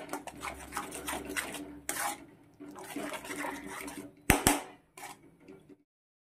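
Water splashes and pours into a mixer grinder jar of spice masala, a broadband gushing that runs in bursts with short pauses and a couple of sharp knocks near the end, then silence.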